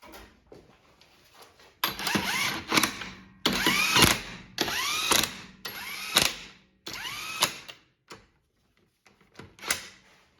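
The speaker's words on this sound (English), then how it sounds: "I'll get off this nut that we had to hold the rotor on and install the wheel" Power tool whirs in repeated bursts while removing a nut holding a rear brake rotor and fitting the wheel on a 2010-2015 Lexus RX350, interspersed with ratcheting clicks and metallic clanks, close and loud with brief pauses between runs.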